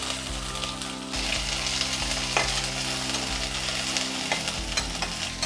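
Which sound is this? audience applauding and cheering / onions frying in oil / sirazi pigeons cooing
onions frying in oil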